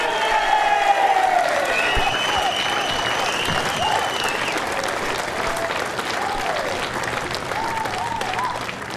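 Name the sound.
audience applause for the lawn bowls champion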